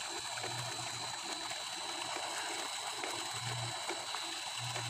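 Steady rush of water pouring from an old electric motor pump running on a solar setup, a continuous broadband flow with a low intermittent hum from the motor, fairly close and unbroken throughout.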